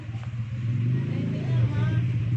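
A motorcycle engine rumbles steadily nearby outside, rising slightly as it revs, a continuous low drone with a faint voice underneath.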